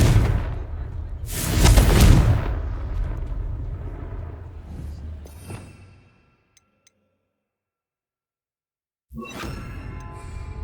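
A Confringo fire-blast spell goes off in Hogwarts Legacy on PS5: a loud, heavy explosive boom with a rumbling whoosh that rolls and fades over several seconds, then a sudden silence before another burst of game noise returns.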